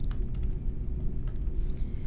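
Rapid keystrokes on a computer keyboard while a teacher works in a shared document, a steady patter of soft clicks running continuously and close by, with no talking.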